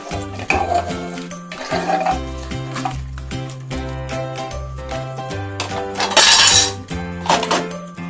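Mixed vegetable soup with salt stirred in a pot, a spoon clinking and knocking against the metal over a low rhythmic background, with a louder scraping burst toward the end.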